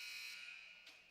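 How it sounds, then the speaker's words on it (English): A loud, steady electronic buzzer sounds at the end of a period in a junior varsity preseason ice hockey game, a sustained tone under faint arena ambience. "with that buzzer, that means we are through 2"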